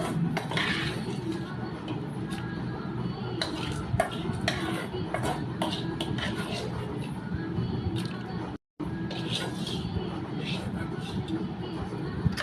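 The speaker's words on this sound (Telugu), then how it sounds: "దాంట్లో తాలింపు వేసుకోవాలి" Tempering being stirred into cooked dal in a pot, with continuous clattering and scraping of a spoon against the metal vessel alongside a steady sizzle, broken by one brief pause.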